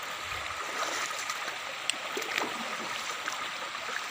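River water rushing in a steady, unbroken wash during a crossing on foot, close and continuous with no voices.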